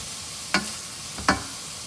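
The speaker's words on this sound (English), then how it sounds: "So I'm gonna shove the meat to one side." Sausage meat for a ragu gets shoved across a hot frying pan in two short scraping strokes over a soft, steady sizzle.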